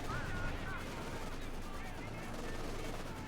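Faint, distant gunfire and rocket artillery rattle in a Company of Heroes 2 battle, with machine-gun bursts and thuds blurring together at low volume, ending in one sharper impact.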